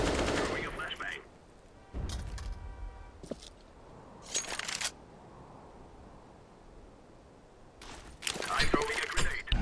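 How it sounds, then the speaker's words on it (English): Gunfire in a professional CS:GO match between Flipsid3 Tactics and Natus Vincere, several short bursts of sharp shots spread across the stretch, some louder and closer, with casters talking over. "Firing off some shots."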